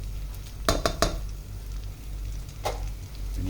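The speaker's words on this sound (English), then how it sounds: "When you give the onion and the celery a good stir, let that butter melt in." A spoon scrapes and clanks against a pot while chopped onion and celery are stirred into melting butter for a beef stew, a few sharp knocks over a low steady background.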